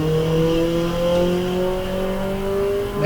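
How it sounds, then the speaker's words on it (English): A 1976 Triumph Dolomite Sprint race car drives past at a hillclimb sprint, its engine a loud, sustained drone with rising harmonic tones as it accelerates, fading slightly at the end. "On his way, Paul Lawrence now in the 76 model Triumph Dolomite Sprint"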